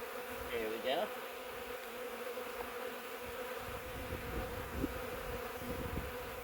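Honey bees hum in a steady, close swarm while a hive is opened for inspection, with a few louder individual bees passing near and faint handling noises underneath.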